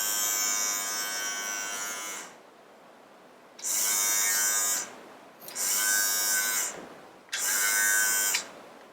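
A Nova NHT 1049 electric trimmer buzzes loudly and close up in four separate running bursts, each lasting one to two seconds, with short silent gaps as it is switched off and on.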